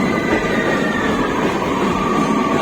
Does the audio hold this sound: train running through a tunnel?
yes